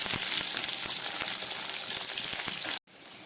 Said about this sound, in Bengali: খুব ভালো করে ভেজে নিই।